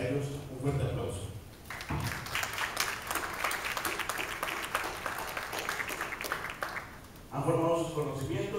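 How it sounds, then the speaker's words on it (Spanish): Sustained crowd applause at a 2023 graduation ceremony in Tumaco breaks out after a spoken announcement, a dense, steady clatter of many hands lasting several seconds before speech resumes over a hall microphone. "Para ellos, un fuerte aplauso."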